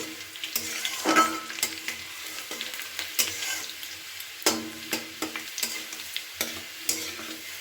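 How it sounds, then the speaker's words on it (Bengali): Chopped garlic frying in oil with black cumin seeds, sizzling steadily up close while a utensil scrapes and stirs the pan in repeated short strokes. "রসুনটা একটু একদম লালচে করে ভেজে নেব"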